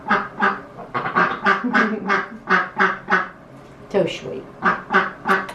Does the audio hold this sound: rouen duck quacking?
yes